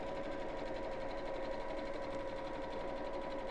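A sewing machine top stitches around the edge of a messenger bag on a lengthened stitch, running in a steady continuous hum and rapid rattle, close and alone.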